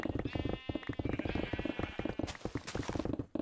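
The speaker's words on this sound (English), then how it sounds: "Yes, sheepies, I hear you." Sheep in Minecraft bleating inside a cave, several wavering bleats overlapping a steady patter of clopping footsteps, fairly close.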